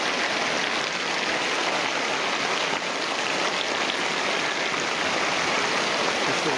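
Heavy rain pours down at night, mixing with rushing, flowing water into a loud, dense, continuous roar with no breaks.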